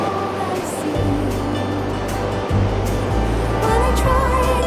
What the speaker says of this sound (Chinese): 简直就是一个瀑布洞，这个洞里面都是瀑布，而且这个水流声超响的